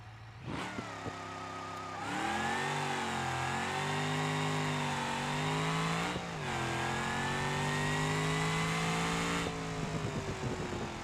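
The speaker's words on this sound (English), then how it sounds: "Engine's not happy with revving the 7 grand, but it's gonna have to put up with it." A boosted track car in BeamNG.Drive revs hard near 7,000 rpm, its engine note climbing and holding steady in two long loud pulls separated by a brief dip, with no talking.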